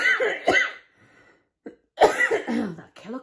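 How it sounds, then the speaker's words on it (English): A harsh, deep chesty cough from a person recovering from a serious illness comes in two clusters of bursts with a near-silent pause between them. The coughing is close and loud, with no talking. "That killer cough. It's awful."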